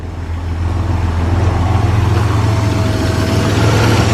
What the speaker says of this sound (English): that is a very smooth running engine.